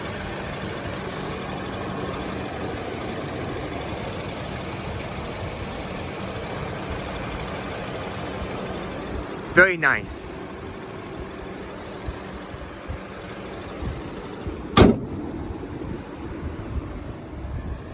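Steady idle of a 2020 Lexus NX300 F Sport turbocharged engine runs throughout, broken by a couple of brief sharp clicks or knocks, with a short spoken remark near the end.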